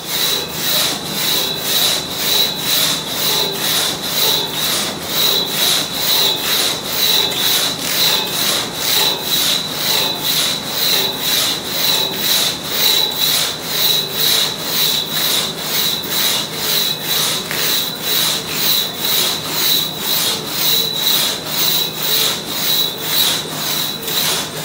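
A saw cuts through a tulip wood log in steady back-and-forth strokes, each rasping pass loud and close in an even, continuous rhythm, with no talking.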